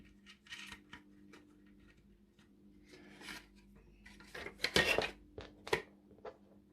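Small metal clicks and taps of a nut being fitted onto a bolt on a Tamiya King Hauler model truck, scattered close ticks growing busier and louder toward the end over a steady low hum.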